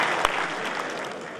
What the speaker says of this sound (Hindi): जोरदार तालियों के साथ अभिनंदन, स्वागत